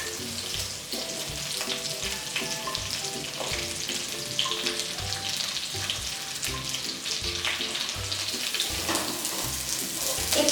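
Large-cut onions frying with chillies in a pan, for chilli baby corn. A quiet, continuous sizzle runs under intermittent clinks and stirring knocks, heard close with no talking.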